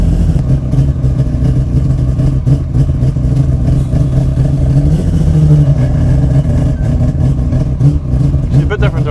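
A Mazda RX7 fitted with a 26B four-rotor engine revs loudly and steadily up close, its dense rotary drone filling the whole stretch, with voices talking over it inside the car.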